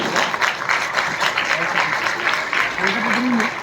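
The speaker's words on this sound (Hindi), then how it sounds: "बहुत जोरदार तालियां।" An audience at a motivational business gathering applauds loudly and continuously, the clapping dense and even, with a voice speaking over it near the end.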